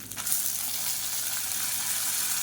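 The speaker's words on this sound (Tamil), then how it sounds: "இது எல்லாத்தையும் நல்லா வதக்கிக்கலாம்" Chana dal, garlic, ginger and dried red chillies sizzle steadily in hot oil, a loud continuous close-up hiss with no talk.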